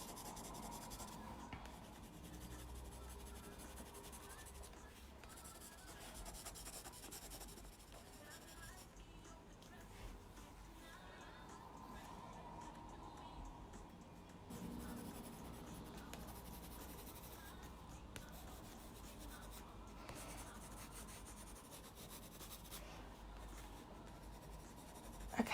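A Faber-Castell Pitt pencil drawing in yellow on a surface over a wooden board makes faint, continuous scratching and rubbing strokes, quiet and close, with irregular bursts as the pencil's side sweeps back and forth.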